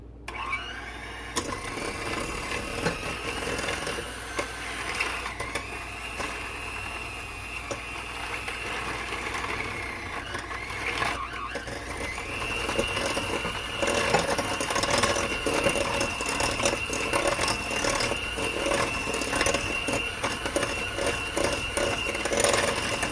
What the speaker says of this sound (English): I have my hand mixer, and I'm just going to beat this up until it's smooth.